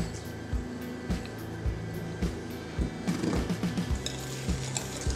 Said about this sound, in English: And we'll continue to whisk.